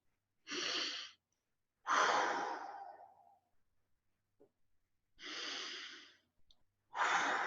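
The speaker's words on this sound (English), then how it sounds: "please take a couple of deep breaths." A person takes several slow, deep breaths during a group meditation in a temple, each long inhale or exhale clearly audible and close, separated by short quiet pauses, with no speech.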